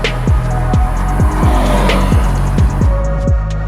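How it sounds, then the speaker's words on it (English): A 2014 Scion FR-S sports car drives close by with a loud, rhythmic series of short engine bursts, each dropping in pitch, repeating about twice a second with a hint of tire noise. "We're driving a 2014 Scion FRS"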